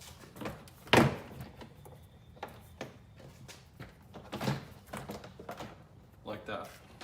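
A Lexus/Toyota door panel is pried off the car door, giving a sharp plastic clip pop and a few dull knocks and thunks while someone talks throughout.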